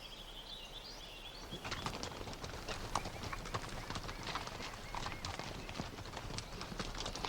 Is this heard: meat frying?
no